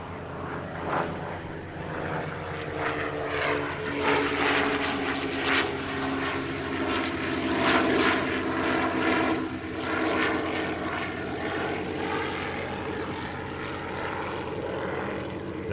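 Dassault MD-312 Flamant twin-propeller trainer aircraft at the Paris-Villaroche airshow, its engines droning loudly and steadily with a throbbing piston beat throughout, swelling slightly as it passes.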